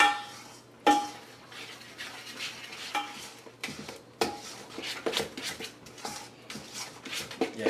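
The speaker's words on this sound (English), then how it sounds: "stir this all up, get it mixed up real nice" Waffle batter with a whole stick of melted butter being stirred in a bowl, gluten-free churro waffle mix, giving repeated scraping and clinking strokes with a few sharper knocks against the bowl, close and fairly quiet, no talking.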